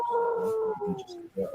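A man imitates a wolf howl, one long, wavering sustained cry held close to the microphone and rising slightly at the end, on a casual sports-picks podcast.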